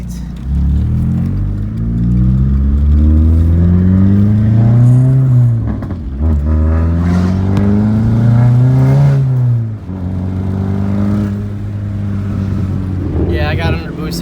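A Chevrolet Cobalt engine pulls under turbo boost with a loud, close drone that climbs in pitch through repeated sweeps, easing off and building again across the run.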